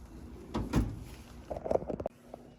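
A toolbox drawer slides open with a brief rolling scrape and a couple of light metallic clicks and rattles, close and fairly quiet, with no talking.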